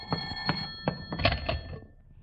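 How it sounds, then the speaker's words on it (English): An old-fashioned telephone bell rings in a home setting in several short bursts, each ring sharp and metallic, then fades to quiet. "Will you get that phone"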